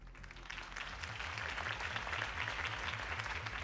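Sustained applause from a crowd in a video game, dense and even, with a low rhythmic pulsing underneath, fairly quiet overall.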